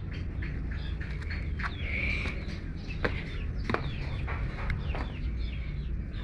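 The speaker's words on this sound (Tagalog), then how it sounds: "Yan yung mga manok." Chickens cluck and chirp softly at a rural Philippine home, scattered short calls over low background noise, fairly distant.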